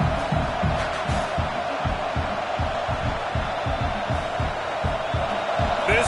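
Stadium crowd noise in an NCAA college football video game, a loud, continuous roar with a rhythmic pulsing, like chanting or stomping, running steadily throughout.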